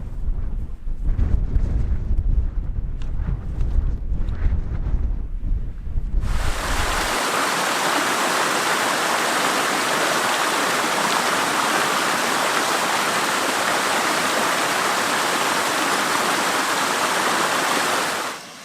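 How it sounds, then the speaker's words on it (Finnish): A stream flows at the bottom of a fell gorge in Lapland in autumn, a loud, steady broadband rush of water that fills the scene alone after a few seconds of gusty wind noise. "Sen pohjalla virtaa puro"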